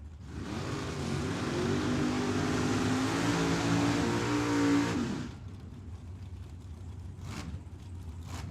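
White Chevy Camaro drag car at Tucson Dragway, its engine roaring and revving hard for about five seconds before cutting off abruptly, leaving quieter track ambience with a couple of faint distant bursts.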